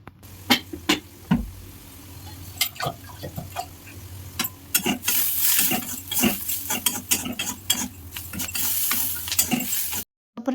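Onions fry in a pan with turmeric and chili powder, sizzling steadily under repeated scraping and stirring knocks of a spoon against the pot, fairly close and busy, with a brief quiet break near the end.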